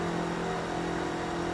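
A McLaren revving in Forza Motorsport 3 at Circuit de la Sarthe, a loud, sustained engine whine with steady harmonic tones, heard alone.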